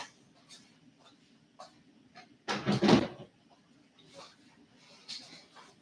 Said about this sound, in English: She just opened the door.